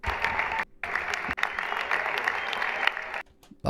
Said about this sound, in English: Googly-eyed James is standing and clapping for Trump